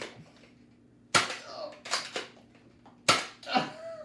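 Nerf Disruptor blaster firing foam darts, three sharp loud snapping shots spaced apart, each followed by brief rattles and impacts, with faint voices in the room.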